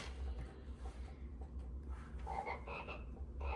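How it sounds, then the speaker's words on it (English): Frogs croak in a pond amid city ambience, a soft continuous chorus of low rasping calls with brighter chirps toward the end, fairly faint and steady. "Frogs. Frogs. Frogs."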